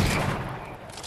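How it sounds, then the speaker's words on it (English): A new shotgun fired in Fortnite, a dense, loud burst of gunfire that opens hard and decays over about a second, close and roaring with no clear talk over it. "Let's see what the new shotgun does."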